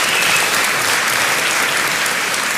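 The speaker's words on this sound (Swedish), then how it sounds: "En applåd." A packed audience at a comedy roast at Berns in Stockholm bursts into loud, dense applause, an even wash of clapping that holds steady throughout.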